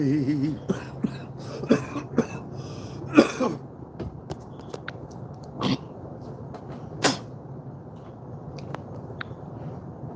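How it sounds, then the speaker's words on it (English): Several sharp, scattered coughs bringing up mucus sound close by, irregularly spaced, with some throat clearing and small knocks in a quiet room. "Every time I cough, I'm usually coughing up some mucus"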